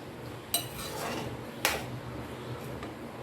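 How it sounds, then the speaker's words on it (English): Two sharp metallic clinks of a pot lid come off a pot of simmering mutton liver curry, close and fairly quiet, against a soft background hiss. "After 5 minutes, remove the lid and this is done."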